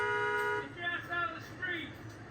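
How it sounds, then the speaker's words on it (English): A taxi cab dressed as a New York City cab honks one steady horn blast at an intersection, followed by faint voices talking in the background. "that taxi cab that was dressed as a New York City cab honks at Kate as she steps into the intersection"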